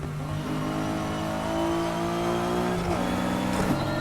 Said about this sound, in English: does this engine sound so mean in this Evo 10